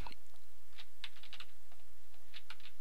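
Fingers tap out a password on a computer keyboard during Linux terminal setup, producing irregular, close, crisp keystroke clicks in small bursts with short pauses.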